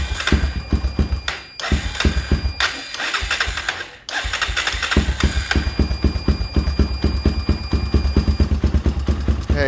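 An ATV engine running with the choke on, loud and close with a rapid uneven chugging pulse that briefly dies down and stumbles before picking back up into a steady rough rhythm.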